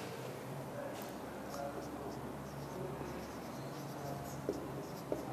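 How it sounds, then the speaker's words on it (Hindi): Chalk or marker scratches across a board during a maths lesson on Cramer's rule, faint soft strokes with a couple of sharper taps over quiet room noise and low hum. "इससे पहले हम मैट्रिक्स फॉर्म में लिख लें"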